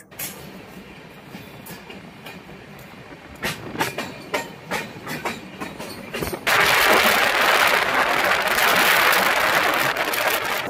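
Howrah Lal Kuan Superfast Express (12353) on the move, steady wheel clatter with a run of rhythmic clacks over rail joints, then a sudden louder roaring rush as the train passes something close.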